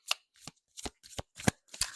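Tarot cards being shuffled during a reading: six short papery riffles in a steady rhythm, each a quick crisp burst, close up and clear with no voices.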